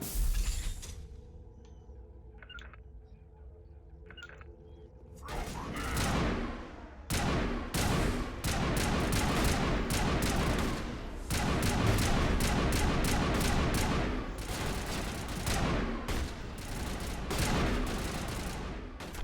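Assault rifle fire in Mass Effect 1 on Xbox Series X: after a few quiet seconds of faint mechanical ticks, loud rapid bursts rattle out almost without pause, sharp repeated cracks packed densely over a low rumble.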